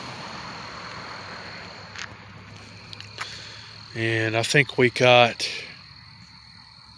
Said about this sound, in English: I just love to come out and hear the sound of the crickets and the frogs in the woods